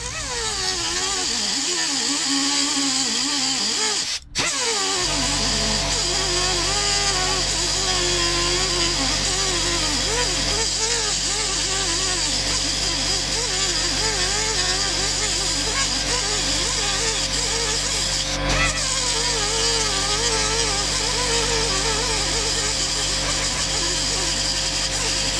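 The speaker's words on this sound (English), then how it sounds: "I'm gonna use this bad boy right here, the cutoff wheel, and I'm gonna chop it like right along there" Cutoff wheel slicing an undertail kit part for a 2002 Suzuki GSXR 600, a loud, sustained high-pitched whine that starts up, steadies, and keeps cutting with a brief dip midway.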